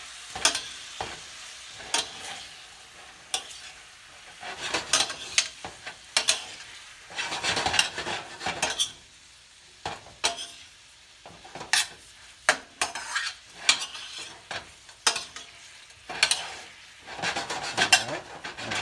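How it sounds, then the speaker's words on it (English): Lobster sautéed in a spicy honey garlic sauce crackles softly in the pan. Repeated bursts of spatula scraping and utensil clatter come and go over the low frying hiss, with no voices. "I'm just going to saute this up now"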